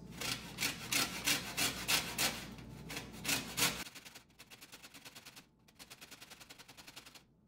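Lemon peel rubbed against a hand grater makes rhythmic, close rasping strokes, about two per second. They are loud and steady at first, then become quieter, lighter scraping passes.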